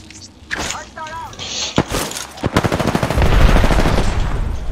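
Enemy gunfire in a video game comes from behind the players as rapid bursts of automatic shots and sharp cracks, growing denser and louder toward the end, mixed with voices talking over the action.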